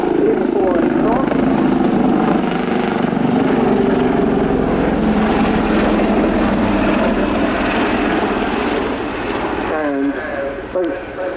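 Two Royal Navy Leonardo Wildcat HMA.2 helicopters flying low along an airfield at an airshow, a loud steady rotor and turbine roar throughout with a commentator talking over it.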